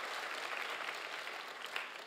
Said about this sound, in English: Now that ought to get a round of applause.